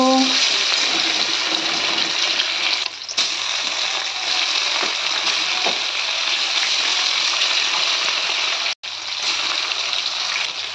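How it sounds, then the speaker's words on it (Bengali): Rohu fish steaks coated in salt and turmeric sizzle in hot oil in a wok, a loud, dense, continuous crackle close by that runs nearly the whole time with two brief dropouts. "এবার এর মধ্যে আমি লবণ হলুদ মাখিয়ে রাখা মাছটা দিয়ে দেব"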